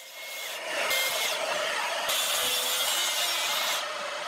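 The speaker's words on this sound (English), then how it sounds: "right now, I'm just using my track saw and I'm making all of my cuts" Track saw cutting through a plywood sheet, a steady harsh whirring rasp close by that swells in bursts and holds through the cut with no talk.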